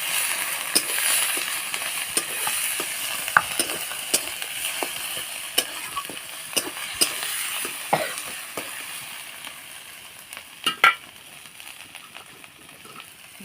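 Ground shrimp paste frying in a wok, with a steady bright sizzle and scattered crackling pops throughout, close and fairly loud, with no talk.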